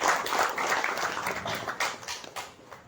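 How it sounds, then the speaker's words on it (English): Audience applause at a book launch event in Goa, a dense steady clapping from a hall crowd that tapers slightly toward the end, with no voices over it. "can we have a big round of applause for"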